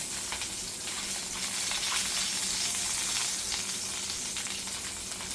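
Onions sizzle in oil that has browned in a pot, a dense, loud, continuous hiss of frying close up, with no talking.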